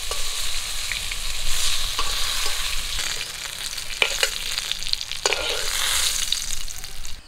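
Aubergine slices seasoned with turmeric and salt sizzle in hot oil in a pan, a continuous crackling hiss broken by occasional scraping and clinks from stirring.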